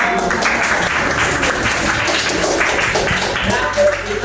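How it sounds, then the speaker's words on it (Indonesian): A class of fifth-grade pupils applauds together in a classroom, steady clapping filling the room for several seconds at close range, with voices mixed into the clapping. "Ya, beri tepuk tangan."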